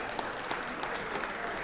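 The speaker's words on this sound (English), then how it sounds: "Let's give former Representative Jim Cole a big round of applause." A short burst of audience applause rings through the Georgia Senate chamber for a former state representative being recognized, dense clapping that holds steady throughout.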